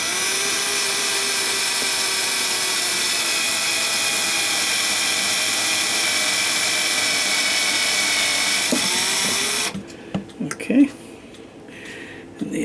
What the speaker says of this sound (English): we're going to go drill this out